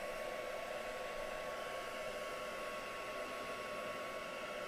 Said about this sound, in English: I like to dry something off if I can,